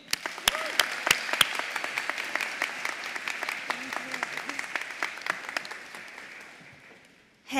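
An audience at a college academic convocation applauds to welcome a keynote alumni speaker, steady sustained clapping filling the hall for several seconds with a few sharp claps up front before the applause fades and a voice begins.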